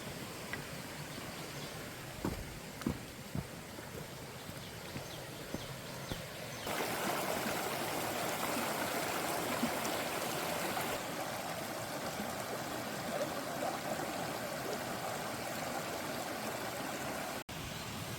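A stream flows beside a humid forest hiking trail in the Konkan ghats, a steady broadband rush of water that swells louder partway through and continues alone without talk.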